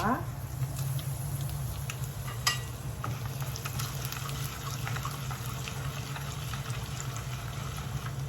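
Mustard seeds, cumin, black pepper and dried red chillies frying in a pan for tamarind rice, a steady sizzle with scattered crackles and pops throughout, close and continuous, with a brief louder crackle partway through.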